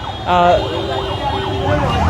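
A wailing ambulance siren rises and falls repeatedly amid steady traffic rumble during a road blockade at Shahbag, fairly loud and close.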